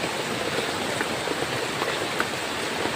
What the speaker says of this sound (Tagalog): Maulan Kasi ngayon?